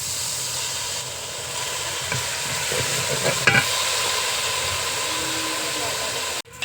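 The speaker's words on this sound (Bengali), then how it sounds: "মশলাটা একটু জল দিয়ে কষিয়ে নেব।" Spice masala for a home-style beef curry with khoya kheer and ghee being sautéed with a little water, a steady broadband sizzle and hiss with occasional stirring scrapes throughout, ending in a short clatter.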